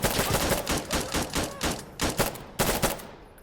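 Rapid gunfire crackles in Insurgency: Sandstorm, a dense stream of loud, close shots that stops briefly near the end and then resumes, with no talking over it.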